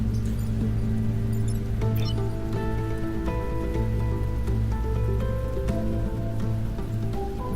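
Rain patters steadily in the video game Into the Breach, a soft continuous hiss beneath sustained game music tones, with scattered small ticks and no talking.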